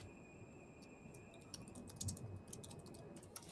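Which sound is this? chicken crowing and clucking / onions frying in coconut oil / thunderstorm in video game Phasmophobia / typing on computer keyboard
typing on computer keyboard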